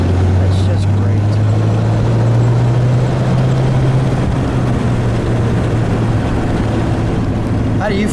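A 1931 Studebaker President Four Seasons roadster driving along, its steady engine drone and wind/road rush continuous and loud throughout, with no talking over it.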